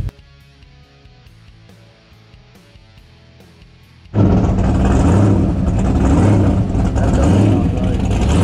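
A purple car drives past at a street car cruise on Telegraph Road in Taylor, Michigan. After a quiet start, a loud engine roar bursts in and holds strong and close, rising and falling as the car revs.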